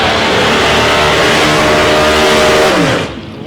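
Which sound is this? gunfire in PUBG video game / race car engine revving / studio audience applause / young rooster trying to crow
race car engine revving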